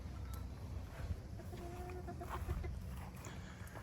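Several chickens, one named Frizzle among them, cluck softly in a backyard flock, steady low murmurs with a few brief tonal calls drifting through at moderate distance.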